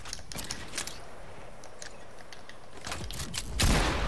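Video game gunfire comes as short sharp bursts of shots scattered across the moment, with a louder heavier volley at the end.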